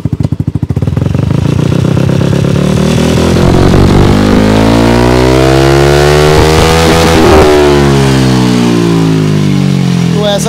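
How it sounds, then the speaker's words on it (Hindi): A 2024 Yamaha Aerox 155 scooter fitted with a full-system exhaust starts loud and close, settles briefly, then revs up hard with rising, sweeping engine tones and blips of throttle over about ten seconds. "और अब सुनाऊँ आपको स्टार्ट कर साउंड, ये देखिए ये आपकी हो गई इसकी आइडल पर"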